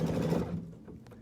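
A sewing machine stitches chenille fabric, giving a brief, close, steady whirring hum that fades slightly toward the end.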